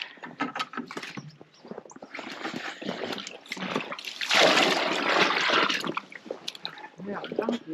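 Water is poured and splashes into a container during winter chores on a homestead, with irregular gurgling and clattering that build to a sustained pour in the middle while people talk nearby.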